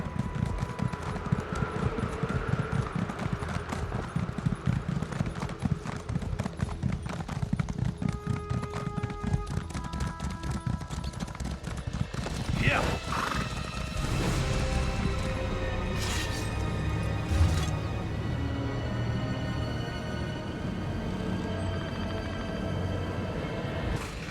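Horse hooves clip-clop at a steady gallop in The Elder Scrolls Online, loud and continuous, with a brief whinny partway through and a faint wind-like background.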